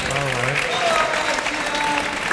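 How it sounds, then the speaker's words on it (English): Studio audience applause on a podcast set, steady dense clapping with some cheering voices mixed in, fairly loud and continuous throughout. "Round of applause,"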